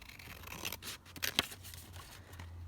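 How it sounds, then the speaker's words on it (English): Scissors snip through a paper journal card in a short run of crisp, close cuts with one sharper snip near the middle, quiet and alone with no talk. "So, just going to cut this one out."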